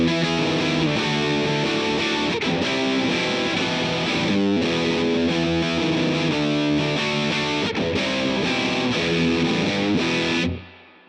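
An electric guitar plays through a Crazy Tube Circuits Venus pedal set to a mid-forward tone, with dense, distorted riffing that stays loud throughout and then cuts off near the end.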